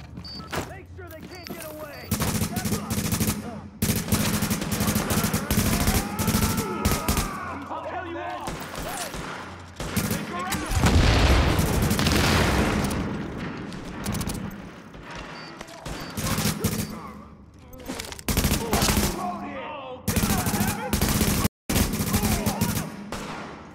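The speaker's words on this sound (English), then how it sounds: "The escort party's taking heavy fire from the roof." Heavy gunfire erupts in The Division at the Madison field hospital, with rapid bursts and rattling volleys repeating loudly alongside game voices.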